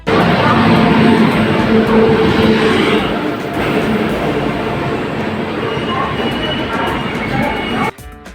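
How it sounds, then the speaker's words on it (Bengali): A crowded passenger express train rumbles loudly and steadily alongside a station platform, with rolling wheel noise and some metallic clatter, then the roar suddenly drops away near the end. "স্টেশনে এসে দেখছি প্রচুর ভিড় প্ল্যাটফর্মে ট্রেন ঢুকে গেছে"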